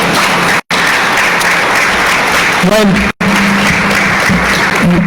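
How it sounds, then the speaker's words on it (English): A ceremony audience at a guide dog graduation gives a loud round of applause for the scholarship donors, broken by two brief dropouts, with faint voices and what may be a dog's whine mixed underneath. "how about a big round of applause for Bob and Bertie Feldman?"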